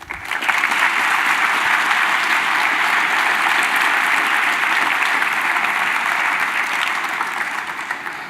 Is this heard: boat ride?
no